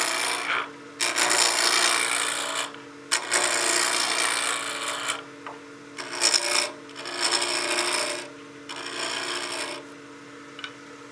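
A spindle roughing gouge cuts a spinning wood blank on a lathe, giving a close, rasping, scraping roar in uneven bursts separated by short pauses.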